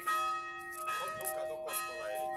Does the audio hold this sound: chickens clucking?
no